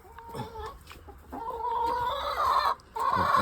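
Pet chickens cluck and chatter close by while being fed grain, a steady overlapping flock chorus with rising calls that swells louder partway through.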